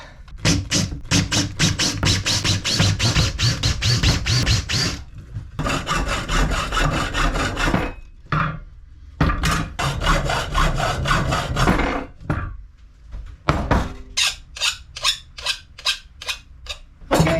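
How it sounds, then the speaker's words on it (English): A countersink bit cleans up the edges of drilled holes in wood aboard a wooden boat, close, loud bursts of rapid rhythmic scraping and rasping separated by short pauses, ending in shorter, sharper strokes. "And then I'll use the countersink to just clean up the edges a bit."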